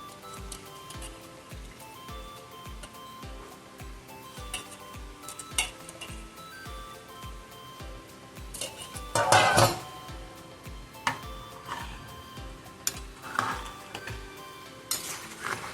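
Soaked basmati rice being stirred into Chennai-style chicken biryani in a pot, soft wet scraping and occasional spoon clinks against the metal over a steady rhythmic background pulse, close up with no talk.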